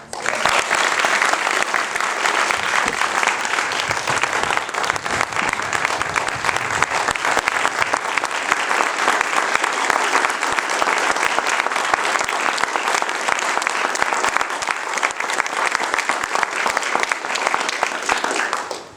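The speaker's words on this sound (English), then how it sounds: "Now please join me in giving these new military officers a round of applause." Long, sustained round of applause from a large standing audience at a military officer commissioning ceremony, dense and even clapping that stays loud and unbroken for nearly twenty seconds.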